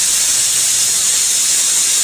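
A pressure cooker holding vegetable bath releases its pressure after two whistles, letting out a loud, close, continuous steam hiss that stays steady throughout.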